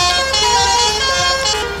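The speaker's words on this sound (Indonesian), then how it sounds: "ini klakson telolatnya agak ganggu ini" A telolet bus horn on a Hino RM280 Jetbus 3+ SHD tour coach in a bus simulator plays loud, sustained musical tones, warbling steadily throughout.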